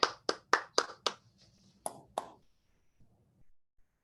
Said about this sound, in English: And give an applause to Manfred also.